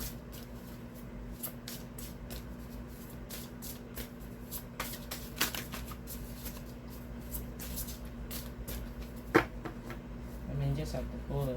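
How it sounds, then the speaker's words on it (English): A deck of oracle cards shuffled by hand during a spiritual reading, giving soft, irregular riffling and flicking sounds over a steady low hum, with a sharper card snap near the end and a voice talking quietly in places. "Now I'm trying to shuffle you guys,"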